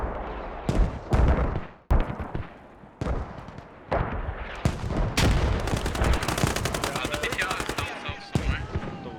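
Gunfire in the Squad military video game during a tournament match, with loud repeated shots, bursts of automatic fire and booming blasts close by, under a commentator's talk.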